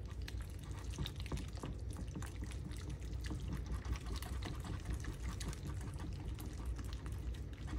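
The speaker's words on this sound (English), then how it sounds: "So even just taking some water from the faucet, it should be nice and cold." Cold water runs steadily from a kitchen faucet into a bowl, a faint, continuous splashing stream that stays even for several seconds with no talking.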